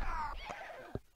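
Horses whinnying in the Amiga strategy game North and South, with a couple of short neighs cutting through game music and effects near the end of the moment.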